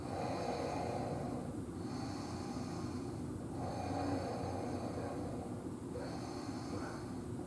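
Slow, steady breathing held in a prenatal yoga warrior one pose, rising and falling in soft, airy cycles roughly every couple of seconds, close and fairly quiet with no talking.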